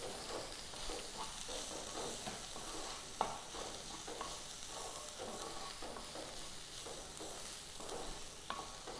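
Crushed fennel spice mix is stirred and fried in a pan, giving a steady low sizzle broken by repeated scraping spoon strokes and a few sharper knocks, with no talking.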